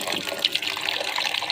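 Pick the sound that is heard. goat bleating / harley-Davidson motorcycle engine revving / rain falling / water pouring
water pouring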